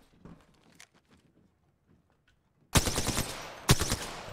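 Bursts of close, loud automatic gunfire from the battle royale game Apex Legends in a solos match, two sustained volleys following a quiet stretch with faint footsteps.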